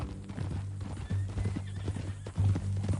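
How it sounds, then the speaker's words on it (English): A horse in Red Dead Redemption 2 clip-clops with steady hoofbeats and lets out a whinny, the sounds close and clear with no talking over them. "That new horse?"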